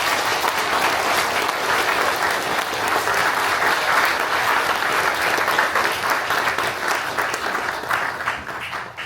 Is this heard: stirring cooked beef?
no